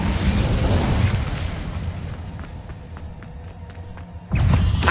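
A Hogwarts Legacy fire spell erupts in a roaring blast that fades over a few seconds, then another loud burst hits near the end.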